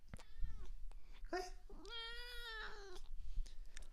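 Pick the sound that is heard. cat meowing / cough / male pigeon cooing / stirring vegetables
cat meowing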